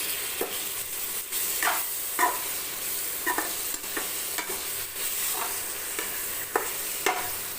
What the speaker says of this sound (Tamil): இது கொஞ்சம் அப்படியே வதங்கட்டும் கொஞ்சம் நேரம் தக்காளியெல்லாம்